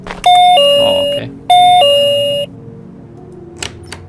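In the Japanese horror game Missing Children, an electronic doorbell chimes twice, each ring a clear two-tone ding-dong that sustains and fades, followed by a few faint knocks or clicks.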